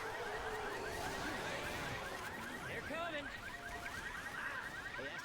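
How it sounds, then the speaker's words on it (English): A car alarm wails in a video game match, its repeating up-and-down electronic tones sounding through busy game noise and a commentator's talk for the whole stretch. "They do get a car alarm."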